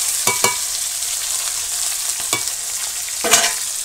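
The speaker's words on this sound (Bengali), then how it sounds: "এই দেখো ফুটে, খালি মাছ ফুটে" Catla fish pieces fry in hot oil in a village kitchen, a steady loud sizzle with a few sharp pops and bursts of spattering throughout.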